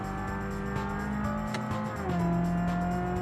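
A game car engine revs hard and climbs under acceleration on a highway, a loud continuous whine with shifting pitch and no voices over it.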